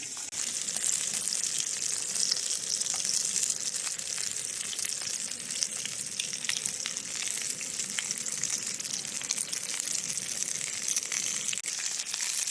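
Chinese-style chicken fries in a pan on a Coleman stove, giving a steady, dense sizzle and crackle that lasts throughout with no talking.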